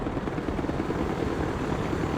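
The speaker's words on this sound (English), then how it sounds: "Trying to get some cinematic shots here of the attack choppers." Attack helicopters flying in the video game Broken Arrow, a dense, steady rotor drone with a fast pulsing chop, loud and continuous with no speech.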